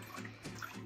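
Water pours into a bathtub for a dog's bath, a brief, quiet splashing rush.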